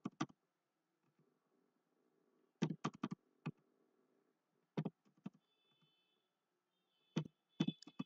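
Keys on a computer numeric keypad are tapped in short bursts of sharp clicks with quiet pauses between, close and crisp, while data is entered into an Excel table.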